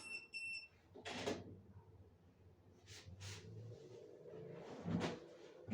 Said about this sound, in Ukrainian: тут пікає пралка